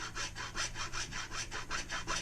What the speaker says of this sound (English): I'm going to cut it open anyway. So I get your hacksaw